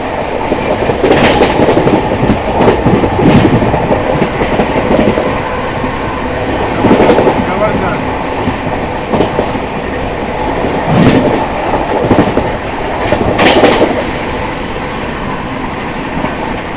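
Rajdhani Express train running at speed around 130 on the rails, heard from inside a first-class AC coach as a steady loud rumble with recurring clickety-clack bursts of wheels over rail joints.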